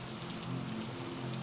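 Steady rain falling on a surface, a dense, even hiss of drops with no breaks or voices, fairly close.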